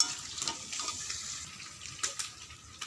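Water pours into a cooking pan of fried ingredients during home cooking. A soft, continuous splashing rush runs throughout at moderate distance, with no talk.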